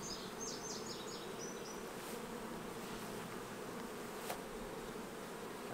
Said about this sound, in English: we've got ourselves a good bit of bees right here.